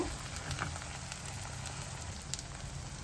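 Gongura (sorrel leaf) thokku cooks in oil in a pan on the stove, giving a steady, soft crackling sizzle with faint scattered pops throughout, fairly quiet and even with no voices.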